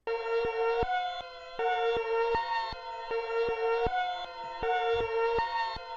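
A repeating synth melody with a swelling, backwards-sounding attack on each note and a slightly wavering, detuned tone, looping in a steady pattern.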